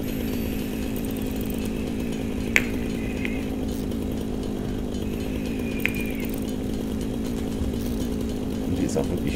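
A chainsaw in the video game Satisfactory drones continuously at a steady high-revving buzz, loud and close, with a few sharp clicks and brief tonal blips over it.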